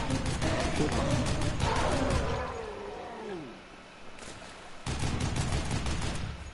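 Rapid gunfire bursts in the Dead Island game, repeated fast cracks in two volleys separated by a pause, mixed with a roaring creature growl and voices talking over the action.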